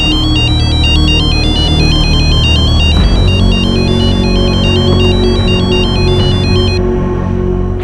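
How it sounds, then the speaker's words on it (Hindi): A mobile phone ringtone plays loud and steady, a repeating electronic melody of alternating high tones cycling for several seconds before cutting off near the end, with no talking over it. "अरे कोई कांति को फिर से फोन लगा दो"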